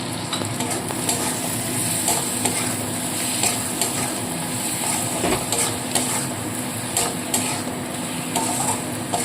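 Chopped tomatoes hitting hot frying spices in a pan while cooking chicken ghugni, giving a loud, dense, continuous sizzle with faint scraping of stirring throughout.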